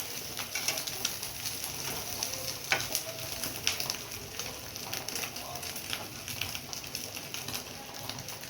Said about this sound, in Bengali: এরকম করে সব ডিমগুলো আমি ভেজে নেব